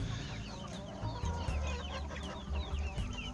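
Several hens cluck and chatter continuously, overlapping calls from a nearby backyard flock with no talking.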